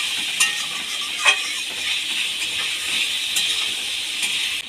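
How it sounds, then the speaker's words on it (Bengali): Soya chunks and potatoes fry together in an oiled pan for a vegetable biryani, giving a steady close hiss and sizzle with a couple of sharp clinks from a spatula. "দিয়ে সয়াবিনটাকেও ভেজে নেব"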